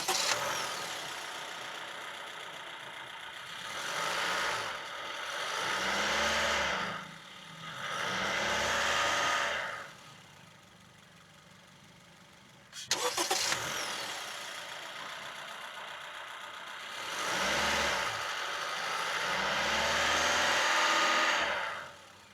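Honda City facelift with an i-VTEC petrol engine gives a steady, faint idle hum that swells in several broad revving surges, with a brief sharp clatter midway, heard alone.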